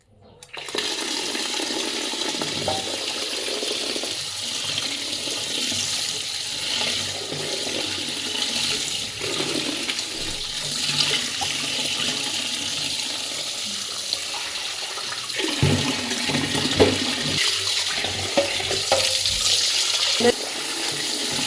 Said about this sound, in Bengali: শাকটা এবার ধুয়ে নিই